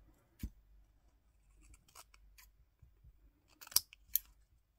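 Scissors snip paper for an art collage trim: sharp, isolated cuts in a quiet room, a single early snip and then a quick cluster of crisp clips near the end.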